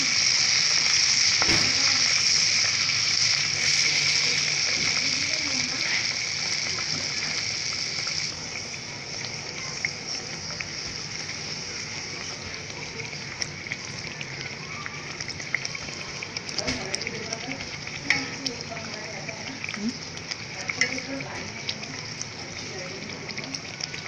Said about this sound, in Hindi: इसी तरह से दूसरी फ्राई करेंगे